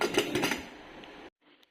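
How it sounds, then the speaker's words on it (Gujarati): A pressure cooker lid is set and closed over an aubergine and potato curry, a quick run of metallic clinks and clatter up close, then it cuts off abruptly to near silence. "હવે કુકરનું ઢાંકણું બંધ કરીને આપણે 3 સીટી કરી લઈશું."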